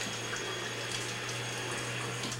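Water runs steadily from a kitchen tap into a sink, a constant moderately loud hiss and splash at close range, without voices.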